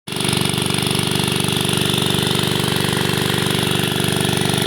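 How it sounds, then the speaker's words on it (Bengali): An engine-driven drainage machine in a waterlogged jackfruit orchard runs at a steady, loud, close chugging idle right after starting, with a fast even mechanical pulse and no talk. "মেশিন স্টার্ট করলাম"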